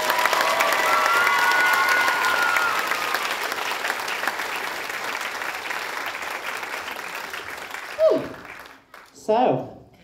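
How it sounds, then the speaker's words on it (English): A dance-show audience gives loud, sustained applause mixed with cheering and whoops for about eight seconds, then fades out as voices speak briefly near the end. "so big round of applause for Andy tonight."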